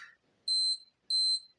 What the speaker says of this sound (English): so it is really loud for a watch alarm